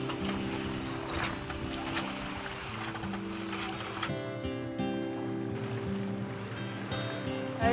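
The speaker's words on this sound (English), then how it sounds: "that is a lot of length of chain that windlass has to bring up" A boat's anchor windlass hauls a long length of chain up from deep water off a remote island. It makes a steady, faint mechanical whir with ratcheting clicks and a low tonal hum that shifts partway through.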